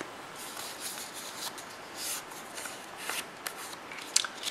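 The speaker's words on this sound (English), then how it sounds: "you're going to fold it in half" A paper circle being folded in half for a Christmas craft, with soft close crinkling and rustling and a few brief crisp creases, no voices.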